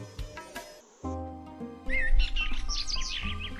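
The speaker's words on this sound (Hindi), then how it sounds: "पंछियों के झुंड के झुंड जब उसके कमरे के झरोखे पर आ मधुर कलरव से उसे जगाने लगे" Birds chirp and whistle in bright, rising and falling calls at a window, layered over a soft musical backing, brief and fairly close.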